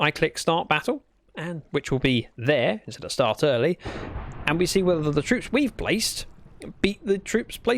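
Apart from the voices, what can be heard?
No everyday noises stand out.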